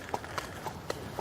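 Horse hooves clip-clopping at a castle, five evenly spaced, crisp hoof strikes at a steady walking rhythm, close and clear.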